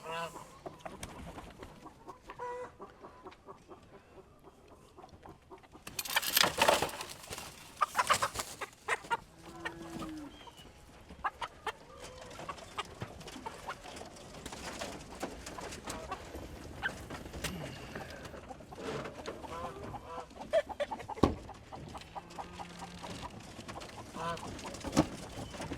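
Chickens cluck and squawk while being caught with a net, frantic flurries of clucking and flapping over rustling and handling noises, with an especially loud burst early on and scattered calls afterward. People talk quietly at times.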